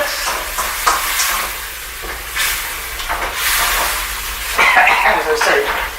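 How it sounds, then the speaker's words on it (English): Chicken stir-frying in a wok with basil and oyster sauce and plenty of liquid: a steady, close sizzle and hiss with bursts of louder spitting and stirring scrapes throughout. "we'll just continue stir frying for a few more minutes"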